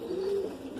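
Pigeons coo near a spot where birds are fed grain, a single soft, low, rolling coo up close with no talk.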